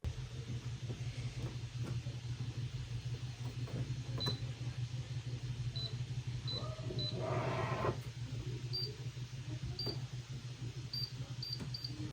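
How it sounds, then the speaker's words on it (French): A Philips 5500 or 5400 automatic coffee machine gives short, high interaction beeps, spaced apart and then in a quicker run of several, over a steady low hum with a brief mechanical whir in the middle. "La seule vraie différence notable, c'est le son du bip lors des interactions sur la machine"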